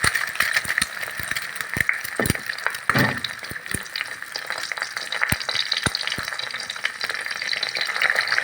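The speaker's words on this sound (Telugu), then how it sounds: "దాని తర్వాత మనం ఎగ్స్ని వేసుకుందాం." Eggs frying in hot oil in a pan make a close, constant sizzle with sharp crackles and pops spaced irregularly throughout.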